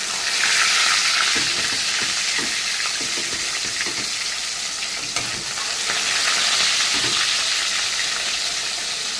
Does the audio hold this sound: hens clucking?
no